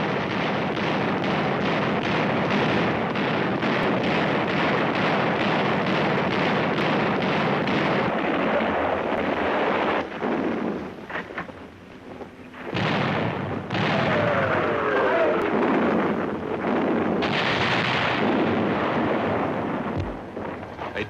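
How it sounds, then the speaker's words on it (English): Warships close to shore fire their guns point blank into Japanese positions, a dense, continuous roar of heavy gunfire and blasts with brief lulls, loud and near throughout. "The vessels move almost to the shore to fire point blank into the Japanese positions"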